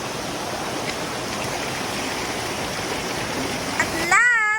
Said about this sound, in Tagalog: nakarating na rin kami sa Bulusacan Falls. Ang lakas ng tubig.